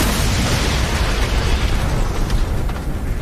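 A rocket launcher explosion in the video game Generation Zero: a loud, dense blast with a continuous rumbling, crackling roar that fills the whole clip before thinning slightly at the end.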